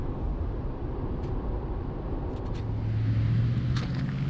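A Tesla Model 3 electric car with aero wheel covers gets up to speed, giving a steady low road and tyre rumble inside the cabin with a faint rising whine, no talking.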